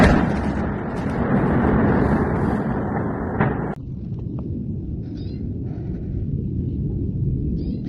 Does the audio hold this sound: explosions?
yes